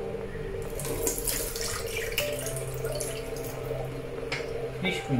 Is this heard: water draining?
yes